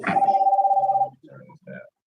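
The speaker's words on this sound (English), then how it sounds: "The phone." A telephone bell rings once in a steady tone for about a second, loud and close, followed by a brief burst of talking.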